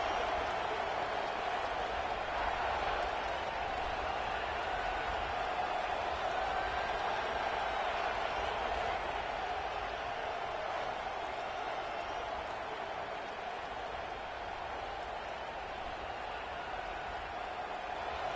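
Home crowd at a Michigan Wolverines vs Ohio State Buckeyes college football rivalry game, a dense, steady roar of many voices that fills the air without a break from start to finish.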